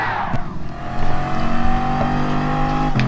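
A Bugatti Veyron Gr.4 race car's engine in Gran Turismo Sport roars loud and close, rising in pitch under acceleration with a brief shift in the middle and a steady high drone afterward.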